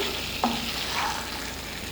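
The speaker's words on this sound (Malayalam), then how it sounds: "കൊഞ്ചിൻ്റെ നന്നായിട്ടൊന്ന് ഇളക്കി കൊടുക്കാം" Prawn masala is stirred in a hot pan: a continuous sizzle with one brief scrape of the spoon near the start, close and moderately loud, with no talking.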